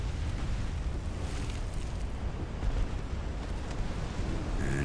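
A torpedo strikes a warship broadside in the naval game Ultimate Admiral: Dreadnoughts, giving a heavy, rumbling underwater-style explosion with a sustained roar that holds steady and swells slightly before fading.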